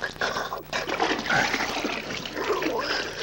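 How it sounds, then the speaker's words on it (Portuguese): Water splashes and sloshes as a small child is lowered into a pool, a busy wet splatter running throughout with a soft voice underneath. "Vamos dar uma entrada profunda na água."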